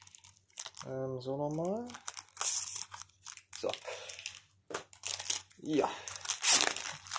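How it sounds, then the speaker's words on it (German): Plastic shrink wrap crinkled and torn from a manga volume of The Seven Deadly Sins, loud crackling and ripping close up, mixed with someone speaking German briefly. "Und wir befreien erstmal das gute Stück von der Folie"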